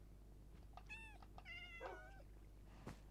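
Cats meowing inside a video game while building a pet store: several distinct, clear meows at a moderate distance over a low steady background hum, with one short sharp sound near the end.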